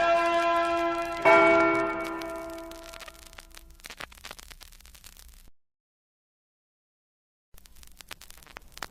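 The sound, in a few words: Liberty Bell ringing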